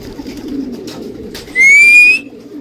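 Pigeons kept for racing training coo in low, steady murmurs, and a sharp, rising whistle-like call cuts in briefly near the end.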